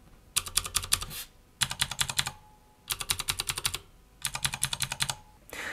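Fast typing on a mechanical keyboard with clicky Cherry green switches, four quick bursts of sharp, crisp clicks separated by short pauses, close and clear with no voices.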